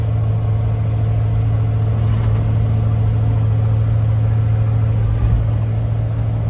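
Steady low drone of a truck with a rebuilt 460 big-block V8 running at an even pace on private roads, a constant hum heard from inside with no talking.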